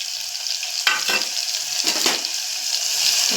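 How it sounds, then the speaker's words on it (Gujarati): Cumin seeds and garlic crackle and sizzle in hot oil, a bright continuous spatter with a few louder bursts and scrapes as they are stirred, close and without speech. "જુઓ મસ્ત અવાજ આવે ને ચટપટ। નાખ્યું જીરું, નાખ્યું લસણ"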